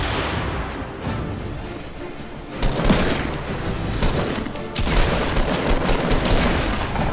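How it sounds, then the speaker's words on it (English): Dense, loud battle noise from the Fortnite video game, with grenade-like blasts and rapid gunfire layered over a continuous roar. A sharp burst lands midway and another heavy hit comes near the end. "Grenade!"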